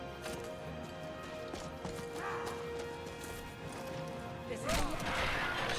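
A horse comes under attack in the video game Skyrim: hoofbeats clop steadily, and strikes and thumps land near the end, all over a dense, continuous game soundscape.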